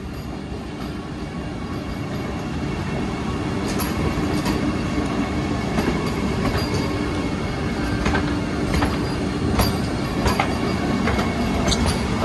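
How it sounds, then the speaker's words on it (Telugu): A Vande Bharat Express train passes close by, a loud continuous rumble with rattling wheel clatter and occasional high squeals throughout. "ఇదే వందే భారత్ ఎక్స్ప్రెస్ అండి"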